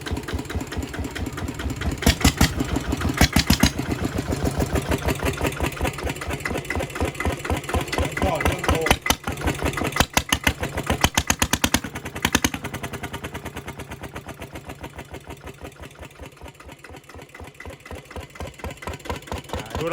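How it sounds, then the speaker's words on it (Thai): Walking tractor engine fitted with a loud modified exhaust pipe, revving hard with rapid popping pulses that swell and ease across the stretch, very loud and close with no talk. "ตอนตอนเร่งเครื่องมัน พูดไม่ได้ยินเลยครับ มีแต่เสียงท่อกบเสียงผมไปหมดเลย"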